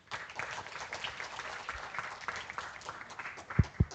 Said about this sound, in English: Let us give them another warm round of applause.